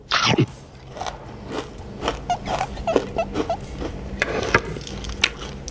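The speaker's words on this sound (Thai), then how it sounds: "เดี๋ยวกินเปล่าๆก่อนเลยหนึ่งคำทุกคน" Crunchy fried snakeskin gourami with chili paste is bitten and chewed close to the mic, giving a run of crisp crackles and crunches in an uneven rhythm.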